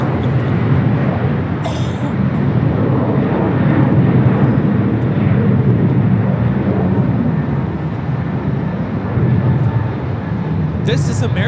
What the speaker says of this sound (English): This is American Airlines 255 coming in from JFK on the A321.